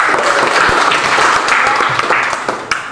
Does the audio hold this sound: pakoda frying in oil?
no